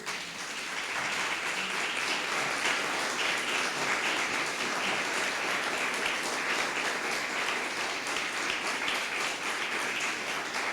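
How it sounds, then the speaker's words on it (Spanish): A church congregation applauding, sustained, even clapping from many hands filling a large room, steady and moderately loud throughout with no voices standing out. "Dale un aplauso al Señor"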